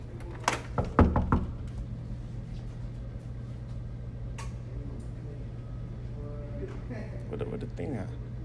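A few quick knocks on a college dorm room door close by, a tight burst of sharp raps, followed by quieter room sound and faint movement, with people talking.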